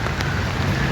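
Steady monsoon rain pouring down in Pasodara, a dense, even hiss that holds without a break for the whole moment, with no voices over it.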